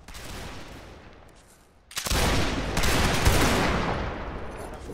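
A line of musket soldiers in a multiplayer video game line battle fires at will, a ragged volley of crackling shots that bursts in loud and dense after a quieter lead-in, sustained rolling gunfire nearby with no talking.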